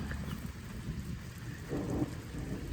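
Low thunder rumbles continuously beneath steady rain, heavy and enveloping, with a deeper roll swelling near the end.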